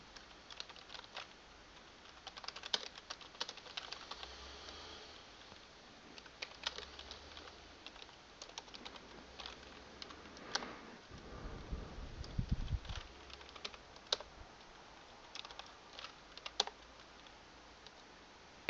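Keys clatter on a computer keyboard in quick, irregular bursts of typing while contact information is entered, faint and close, with no talking.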